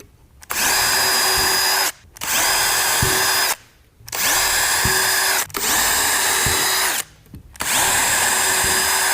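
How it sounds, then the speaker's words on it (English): A power drill whirs loudly in five long bursts while drilling holes in a shutter frame, each run separated by brief pauses as the motor stops and restarts. "I can now drill a corresponding set in the frame just to the opposite"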